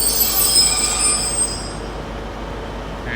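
A former Northern diesel unit, 150207, runs through Exeter St Davids station, a loud steady rail rumble with squealing wheels that eases slightly as it passes close by.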